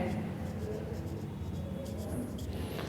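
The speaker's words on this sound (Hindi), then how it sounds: "सब्जेक्ट क्या है हमारे पास? गौरव, तो हम यहाँ पे गौरव लिखते हैं।" Marker or chalk writing on a board during a lesson, a steady scratchy stroke sound running under continuous teacher speech throughout.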